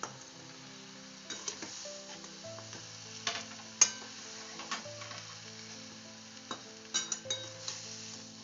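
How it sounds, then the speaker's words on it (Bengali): Tamarind pickle with jaggery is stirred in a pan, giving a faint background sizzle and irregular clinks and scrapes of a utensil against the pan, close and without any talking. "এরপর এটাকে আমি ভালো করে মিশিয়ে নিচ্ছি"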